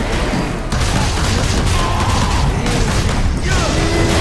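Grenade blast and gunfire from combat in the video game Warhammer 40,000: Space Marine, a dense, loud roar of explosions and rattling shots that runs continuously with a brief dip near the start.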